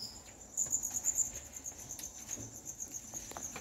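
Field crickets swarming out to eat rice, a close, dense rustling patter with a steady high insect chirr running throughout, no voices.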